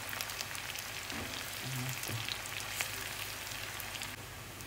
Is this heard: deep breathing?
no